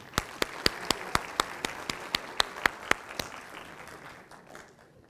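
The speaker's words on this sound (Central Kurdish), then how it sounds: "دەست چەپڵەیەکی بۆ لێدەن" An audience at a self-knowledge lecture claps in a steady, evenly spaced rhythm that fades out over a few seconds.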